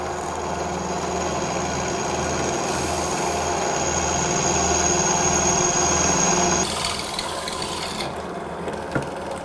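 A drilling machine runs steadily, boring a large hole in metal during a metalworking job; a continuous mechanical whir and grinding hum fills the first six and a half seconds, then drops to a quieter rattle with a few small knocks.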